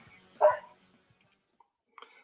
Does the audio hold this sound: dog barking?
yes